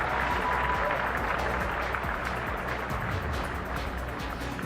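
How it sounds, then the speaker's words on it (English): A large crowd of staff and supporters applauds steadily outside Downing Street as Andy Burnham, the new Prime Minister, moves in with his wife; dense, continuous clapping holds at an even level throughout. "There was a big crowd of staff and supporters"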